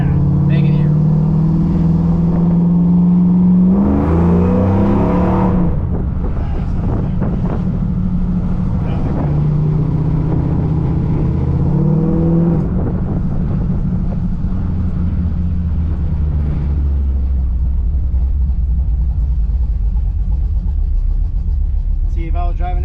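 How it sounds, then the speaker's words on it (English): A classic car, a 1972 Cutlass or 1968 Chevelle, runs through an H-pipe or X-pipe exhaust. A deep, steady low rumble continues throughout while people talk loudly over it. "Now, like, you can actually hear the motor now."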